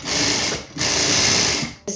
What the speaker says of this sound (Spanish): Entonces vamos a coser.